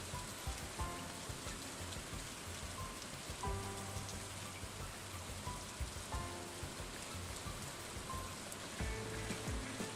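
Green rain falls steadily in the Stardew Valley farming game, a dense, constant patter with no pauses, running for the whole stretch under soft, recurring musical tones.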